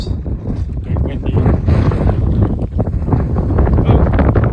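Strong wind roars and buffets the microphone throughout, a steady low rumble with gusts, while a voice talks over it.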